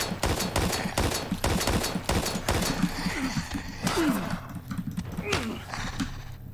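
Rapid pistol shots ring out in Daymare: 1998, sharp cracks in quick bursts that thin into scattered single shots, with growls and game noise around them and someone talking over parts.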